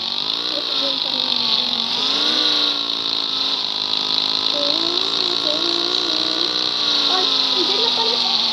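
Motorbike engine in the video game Sakura School Simulator, a steady loud droning hum with a shifting pitch that holds throughout, while a voice talks over it.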